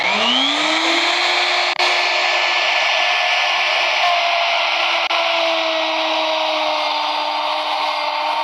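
A plunge router cuts into wood while an attached dust-extraction vacuum runs, making a loud, steady motor whine that spins up at the start and holds constant throughout with no talking.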